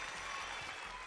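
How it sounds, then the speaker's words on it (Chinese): Children in a studio audience clap for themselves after a correct answer on a kids' quiz segment, a brief, soft burst of steady, dense applause with no talking. "对，为自己鼓鼓掌"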